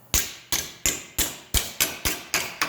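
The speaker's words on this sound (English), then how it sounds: "body shop hammer" A body shop hammer striking aluminum to form a bend, eight loud, close, evenly spaced metallic blows, each ringing briefly before the next.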